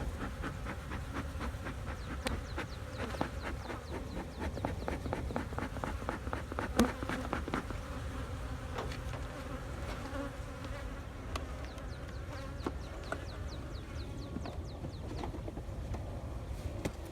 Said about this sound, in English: Got a bee stuck in the patty.